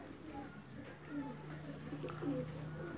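A Teddy breed pigeon coos softly in a few low, rounded phrases, quiet and close, while people talk nearby.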